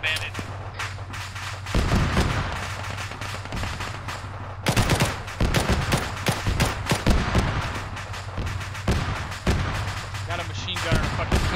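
Rapid machine gun bursts and rifle fire crackle in ArmA 3 special forces combat, loud repeated volleys layered with scattered shots, with voices talking underneath.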